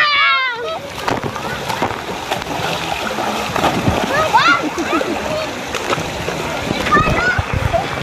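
Swimmers splash in the flowing spring water of a resort pool. Continuous nearby splashing, with children's shouts and excited voices over it.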